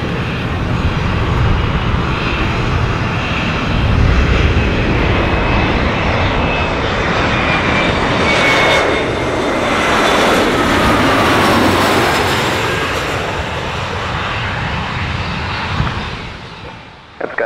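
A jet airplane lands at Saint Maarten airport, a loud continuous engine roar and rushing whine swelling as it passes close and then easing off, with no voices over it.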